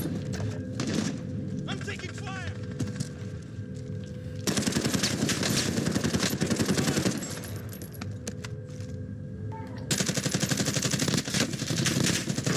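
Rapid automatic gunfire rattles in bursts during a Call of Duty Warzone match, loud and close, with pauses between volleys and a player talking over the shooting.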